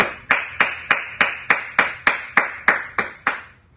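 A steady run of about twelve sharp, evenly spaced hand claps, close and crisp. They sound like one person beating time rather than a full crowd, with no talk over them.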